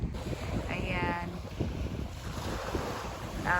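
Gusty wind blows outdoors near the water on Heling Island, rumbling steadily against the microphone, with a few short voices heard faintly through the buffeting.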